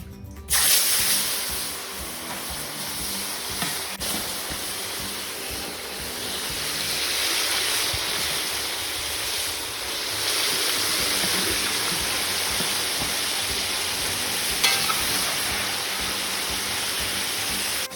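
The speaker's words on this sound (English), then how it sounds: "Now that our oil is hot, we've taken the potatoes out. We are now going to fry the beef." Beef pieces frying in hot oil just used for potatoes, a dense, even hiss like heavy rain that holds steady and close throughout, with a brief clatter at the start and no talking.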